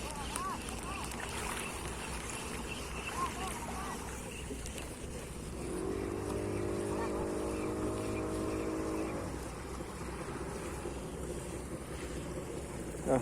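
Fishing net boats pass on open water near an estuary mouth. Wind and lapping water fill the background, and a motor drones closer for a few seconds in the middle before fading. Muffled voices are heard faintly.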